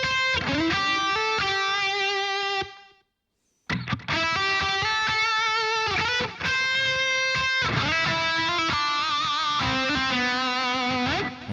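Electric guitar plays a chorus riff from a pop ballad with added accents. The notes ring out steadily and alone, with a short silent gap early on before the playing resumes.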